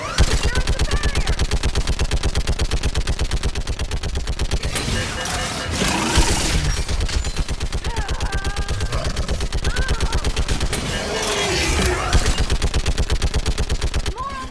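Mounted gun firing in Mass Effect 3, rapid continuous bursts of loud automatic fire in long runs with brief pauses, while voices shout over the shooting.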